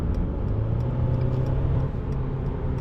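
Sports car engine in sport mode, a low, continuous rumble swelling steadily under acceleration, heard from inside the cabin at moderate volume.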